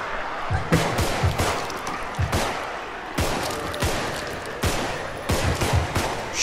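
Rapid gunshots crack in a steady rhythmic series while players shoot enemies in the zombie game Contagion, loud and near, the shots spaced closely throughout.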